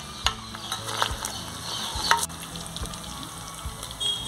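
Pork frying in lard for asado de puerco, a steady close sizzle and crackle with occasional sharp pops and the scrape of stirring.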